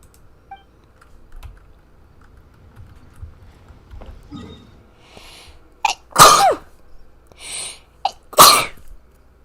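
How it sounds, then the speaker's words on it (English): A loud sneeze blasts right into a microphone after quiet keyboard clicks and soft rustling, followed by a second sharp sneeze burst a couple of seconds later, both close and harsh. "sneezed straight into the microphone"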